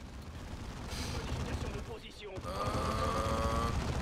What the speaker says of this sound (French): attention, grenade